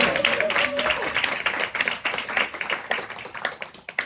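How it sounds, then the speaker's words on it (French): Audience clapping steadily throughout, dense and fairly loud, with a voice speaking briefly over it at the start. "Faut applaudir s'il vous plaît."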